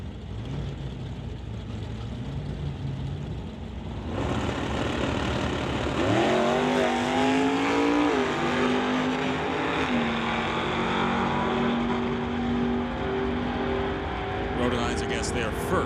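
A Ford Mustang and the Old Yeller Ford rumble at a drag strip, then launch with a sudden loud roar that climbs in pitch as the cars pull away. A voice talks over the engines.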